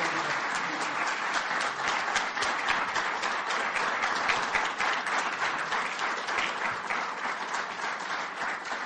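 An audience applauds as a new UConn head football coach is welcomed at his introduction event. The dense, steady clapping fills the room at an even level from start to finish.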